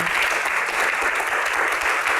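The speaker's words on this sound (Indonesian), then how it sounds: "Tepuk tangan ya." Audience applause at an Indonesian talk show with Sujiwo Tejo, a dense, steady wash of many hands clapping that holds at even loudness for the whole stretch, with no voices over it.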